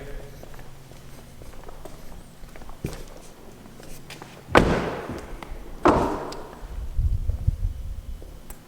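Two solid thuds a little over a second apart, a 2020 Honda Civic Si door slamming shut, followed by faint low rumbling and shuffling.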